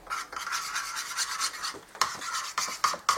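A vinegar sauce mixture stirred in a bowl, making a continuous rasping, rubbing scrape with a few sharper clinks near the end, close and fairly loud.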